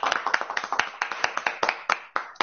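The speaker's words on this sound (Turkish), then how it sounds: "Moral alkışı." A small group gives a quick burst of morale-boosting clapping, sharp irregular claps close and fairly quiet, with no talk over them.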